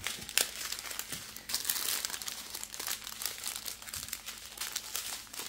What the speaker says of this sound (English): I just fold it accordion style, like three, and then I'll fold it this way, and then I'll fold it back